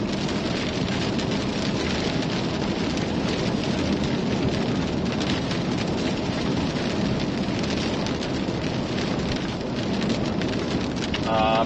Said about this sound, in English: It is just dumping rain out here. I can barely hear myself over it.